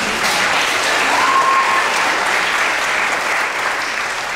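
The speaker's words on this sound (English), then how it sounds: "You can clap for Grayson" Steady, loud applause from an assembled audience at an upper school recognition day, a continuous wash of clapping for a student that holds evenly for several seconds.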